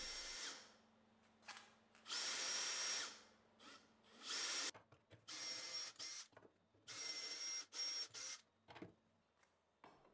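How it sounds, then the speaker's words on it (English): A power drill in a doweling jig whines in several short bursts separated by pauses while boring dowel holes in wood, close and loud, with faint clicks and handling noise between runs. "I will be using a doweling jig and a drill for making the holes"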